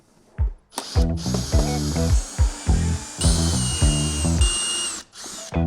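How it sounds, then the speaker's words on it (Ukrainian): Screwdriver backing out self-tapping screws from the housing of a Vitals Master AM 7.8-195w pressure washer, a series of short whirring bursts with ratcheting clicks and a few pauses, close and fairly loud. "По контуру є також саморізи, всі їх відкручуємо по черзі."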